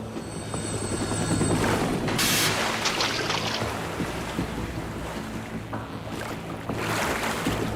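A helicopter in the video game Metal Gear Solid 2 makes a loud, steady rotor drone mixed with wind and the wash of ocean waves, and a harsh burst of noise cuts through partway along.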